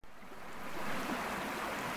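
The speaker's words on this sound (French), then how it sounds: "le ruisseau coule là" A small stream running across a forest path, a steady close rushing and babbling of water that comes in sharply and stays even for two seconds with no voices.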